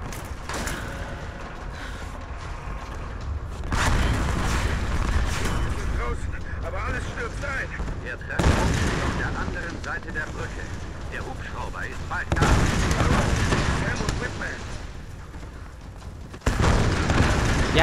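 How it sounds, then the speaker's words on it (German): Explosions boom repeatedly in the Tomb Raider video game, heavy, loud blasts arriving in waves over rumbling action, with quieter voices faintly underneath. "Wir haben laute Explosion und leise Stimmen."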